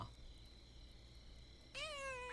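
A cat in the video game Pentiment lets out one clear, drawn-out meow near the end after a quiet stretch of faint background hum.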